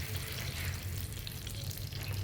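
Mustard oil heats in a kadai for a tadka, giving a soft, steady sizzle and crackle with a low hum beneath it, faint and continuous throughout.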